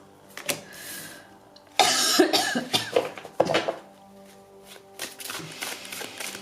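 A few harsh, close coughs come in separate bursts, with soft rustling and shuffling sounds between them.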